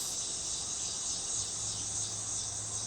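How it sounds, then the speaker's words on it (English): Cicadas buzz in a continuous high, shimmering drone on a warm summer day, steady and fairly faint, with no talk. "they got cicadas hanging out"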